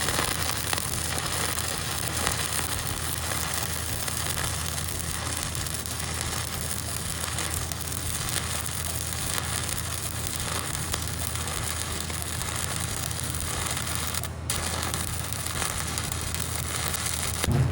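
Arc welding with Lincoln 6010 rods gives a continuous, even crackling hiss that holds steady throughout, with a brief dip near the end.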